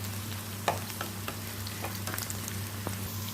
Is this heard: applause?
no